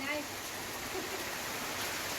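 Heavy monsoon rain as a steady, dense hiss of falling water with no distinct drops, constant and fairly faint throughout.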